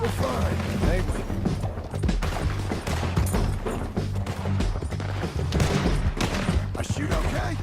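Gunshots ring out in a Red Dead Redemption 2 shootout: loud, sharp cracks scattered among busy game sounds and hoofbeats, with a voice talking over the firing.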